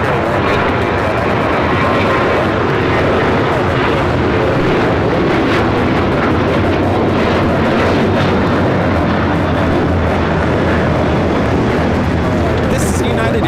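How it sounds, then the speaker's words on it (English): A United Airlines Boeing 737-900ER takes off at LAX, a steady, loud broadband jet roar that holds for the whole stretch with wind buffeting the microphone, and a voice talking underneath. "This is United Airlines 1278 taking off to Cancun on the 737-900ER"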